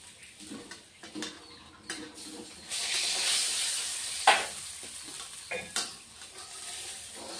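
Rohu fish frying in hot oil, a steady broadband sizzle that swells in the middle, with a few sharp spatters, pops and the clink of a utensil against the pan, close by with no talk.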